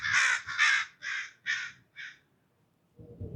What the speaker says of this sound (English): crows and ravens just kind of chilling.